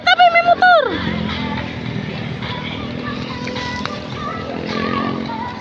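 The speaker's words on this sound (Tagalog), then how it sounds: "Tabi, tabi, tabi, may motor." A motorcycle moves along a busy street amid steady traffic noise, after a brief loud tonal call at the start; the engine blends into the continuous street rumble without standing out sharply.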